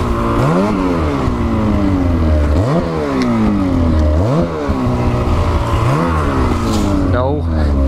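A Ski-Doo turbo snowmobile rides down through thick trees on crusted snow. Its engine revs up and drops back again and again in loud, close surges, with a final climbing rev near the end.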